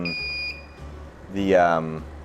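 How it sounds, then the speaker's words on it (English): A steady high beep tone sounds briefly at the start, then a crackling, buzzing electrical burst swells and falls as a Beautyteck Plus plasma device's arc switches on and off rapidly, with low background hum throughout. "that crickling sound was when the arc was on and off really fast"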